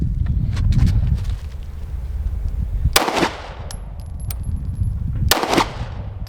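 Two sharp, loud pistol shots ring out about two seconds apart from a handgun fired one-handed at an outdoor range, each with a brief echoing tail over steady wind noise and no talking.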